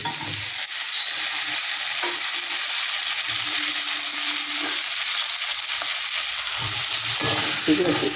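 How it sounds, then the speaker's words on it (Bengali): Prawn curry with a large tomato being sautéed and stirred in a pan, with a steady close sizzle and a few scraping stirs throughout. "একটু ভালো করে আমি কষিয়ে নেব"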